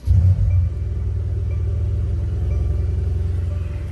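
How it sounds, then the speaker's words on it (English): A Mercedes C63 AMG twin-turbo V8 fires up with a loud initial rumble, then settles into a deep, steady idle that burbles on close by. "we'll go ahead and start this car up"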